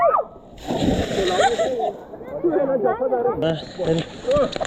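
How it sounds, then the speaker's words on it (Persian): Water splashes as a person is pushed into a river pool in a valley gorge, bursts of sloshing and splatter mixed with lively chatter and voices close by. "وایسا چرا منو هول دادی تو آب؟"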